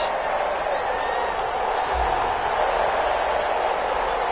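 A stadium crowd roars steadily at an EA Sports NFL game between the Kansas City Chiefs and the Las Vegas Raiders, a broad continuous wash of cheering with a commentator's voice over it.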